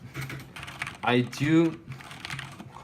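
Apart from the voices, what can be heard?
typing on Corsair K70 Rapidfire mechanical keyboard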